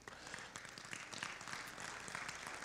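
An audience at an elders and youth conference gives applause for Dr. Richard Manning, a faint, continuous clapping from a crowd, heard from a distance for a couple of seconds.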